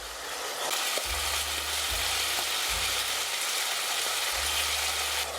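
Onion and carrot frying in butter in a pot, a steady dense sizzle that runs unbroken throughout, with low rhythmic thumps beneath it and no voices.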